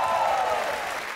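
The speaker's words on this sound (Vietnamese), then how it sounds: "chúng ta hãy dành một tràng vỗ tay thật lớn để chúc mừng đội Mùa Vàng Bội Thu" A studio audience on a Vietnamese game show bursts into dense, loud applause that holds steady, then eases off slightly.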